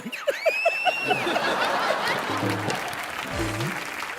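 Studio audience on a Hindi television entertainment show applauds for a music composer, a steady mass of clapping mixed with chuckles and laughter, while a host's voice and some tonal sounds ring out at the start.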